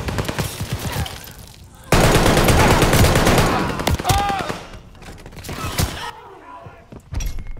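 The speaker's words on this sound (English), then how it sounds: "Enemies called a strafing run." Strafing-run gunfire in the Call of Duty Vanguard video game: a loud, sustained burst of rapid shots and impacts dominates the middle seconds, with scattered shots before and after and faint voice chatter in the mix.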